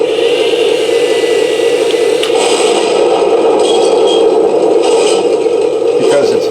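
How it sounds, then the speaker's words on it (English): Electronic main gun firing effect from an Imex M-26 Pershing RC tank with V3 electronics, a loud continuous blast and rumble followed by a metallic shell ejection clatter, no voices. "The main gun sound is also good. It's got the shell ejection afterwards."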